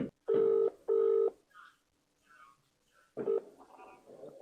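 Two steady ringback tones sound close and clear, then a pause with faint background noise, and a third ring starts before voices and rustling come in.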